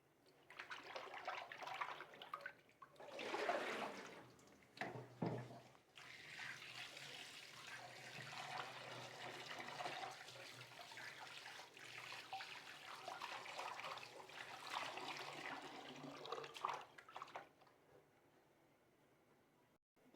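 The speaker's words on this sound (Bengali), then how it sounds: "মাছটাকে আগে ধুয়ে রাখছি" Tap water runs steadily while fish is washed with salt and turmeric in a home kitchen, a soft continuous splashing stream with a few louder gushes, fairly close and without voices.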